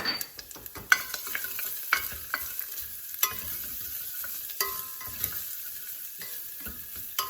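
Garlic and ginger sizzle in hot olive oil with a steady crackling hiss, broken by sharp pops and a few clinks of utensils.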